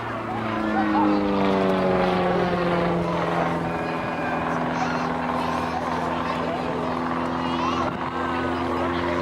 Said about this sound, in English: Now he's on Rod Dean for his individual solo display on the Bulldog T1.